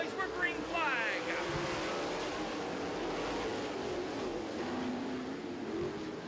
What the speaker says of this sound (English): Butler Built Heat Race number two is underway for Brandon McLean